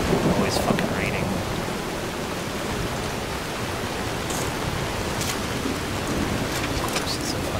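Steady rain hisses in Skyrim while low thunder rumbles beneath, a constant broadband wash with no talking.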